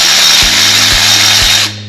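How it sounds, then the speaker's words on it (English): A power tool whirs steadily at close range while removing transmission bolts on a 1999 Honda Civic Si, with a few brief rhythmic clunks under the constant loud whine before it cuts off near the end. "So I'm just removing the transmission bolts that are left on here"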